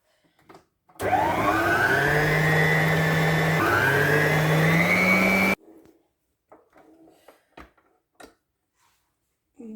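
Electric mixer whirring loudly through heavy cake dough for a travel-cake batter, one steady run of about four seconds with a pitch that rises and dips partway, then cutting off into quiet handling noises.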